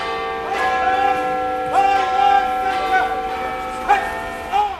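The Big Ben bell chimes in a video game intro for a London Underground driving simulator: a series of loud, ringing strikes with long, shimmering decay.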